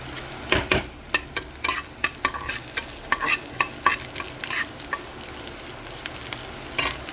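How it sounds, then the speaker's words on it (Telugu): Ajwain (carom seeds) crackling in a pan for vamu rice, with a run of sharp pops and spatula scrapes over a soft steady sizzle. The sound is close and has no talk. "చూసారు కదండి ఇది వేగుతూ ఉంటుంది"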